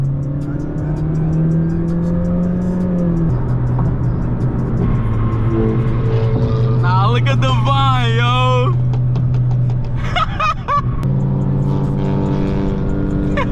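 A BMW's engine revs hard while driving at night, a loud sustained drone that steps up and down in pitch as it accelerates, heard from inside the car with people talking and shouting over it.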